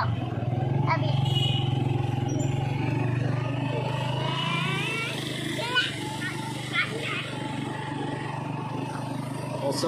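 A motorcycle rides through rainy weather on the way to a market, its steady engine drone and wet road hiss continuous throughout while a person talks over it.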